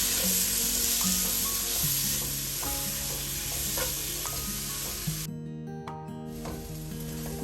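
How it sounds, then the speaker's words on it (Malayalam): Finely chopped tomato frying in a pan for chicken curry, giving a dense, steady sizzle with occasional stirring clinks, close and continuous with no talking. "ഒരു തക്കാളി ഇവിടെ എടുത്തിട്ടുണ്ട്, അത് ഞാൻ ചേർക്കുന്നുണ്ട്, ചെറുതായിട്ട് അരിഞ്ഞത്."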